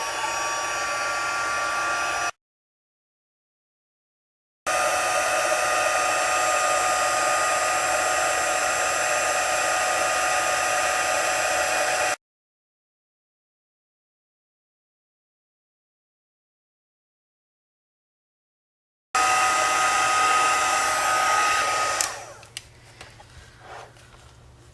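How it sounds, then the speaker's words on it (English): Craft heat tool blowing hot air to melt embossing powder, a loud steady whooshing roar in separate long bursts with silent gaps, the final burst trailing off into small clicks and handling noises. "I'm going to turn on my heat tool and heat up the embossing powder"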